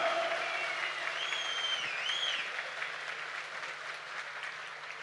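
Loud, sustained applause from a crowd at a political rally, steady clapping that slowly tapers over several seconds, with a whistle rising above it.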